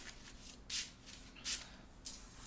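Marvel Champions cards shuffled by hand in three short, brisk riffles spaced about a second apart over a low steady hiss, close and quiet, with no voices.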